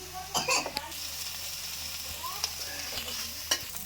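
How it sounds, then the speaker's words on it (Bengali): Onion, chili and garlic paste crackles in hot mustard oil for a rohu fish curry with aloo, a moderate steady sizzle broken by a few sharp spatula knocks and scrapes. "তেল গরম হয়ে গেছে এবার দিয়ে দেবো পেঁয়াজ বাটা লঙ্কা বাটা রসুন বাটা কষিয়ে নেব"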